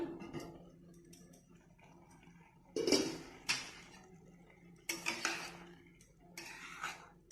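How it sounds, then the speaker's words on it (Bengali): A pot lid lifted and a spoon stirring date pulao in a home kitchen, giving a few distinct metallic clanks and scraping clatters spaced across the moment, close and moderately loud, with no talk. "মিনিট পর ফিরে এসে ঢাকনা খুলে একটু নাড়িয়ে দেখতে হবে।"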